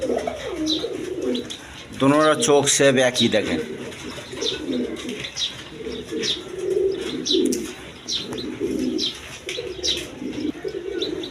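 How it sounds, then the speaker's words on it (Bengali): Maltese pigeons coo in low, repeated throaty murmurs through a coop, with someone talking over them most of the time. "মালটেস কবুতর একদম কোয়ালিটি সম্পন্ন কবুতর"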